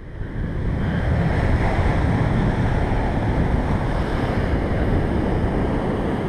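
A loud, continuous roar of Pacific surf washes over a Mexican shore, mixed with gusty wind buffeting the microphone.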